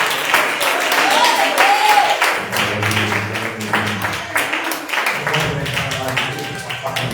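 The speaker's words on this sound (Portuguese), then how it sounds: "Vamos receber com as palmas bem alegres." Congregation applauding in a church to welcome the pastor, dense steady clapping throughout with voices and music-like tones mixed underneath.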